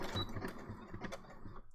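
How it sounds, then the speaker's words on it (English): Sewing machine stitching down a pocket: quiet, uneven mechanical clicking and whirring bursts, as if run slowly in short spurts. "I think I'll just sew the pocket down."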